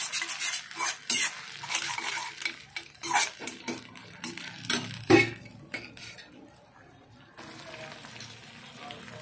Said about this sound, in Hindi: रेड चिली सॉस, थोड़ा सा भून लेंगे।